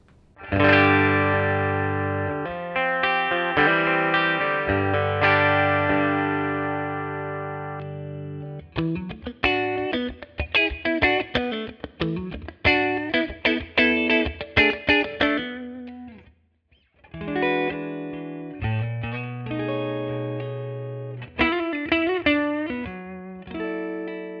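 Electric guitar played clean through a DELUXE55 amp in its 12AY7 preamp mode, modelled on a stock Tweed Deluxe valve: sustained chords followed by choppy strummed stabs and a short pause, then ringing chords again, bright and close.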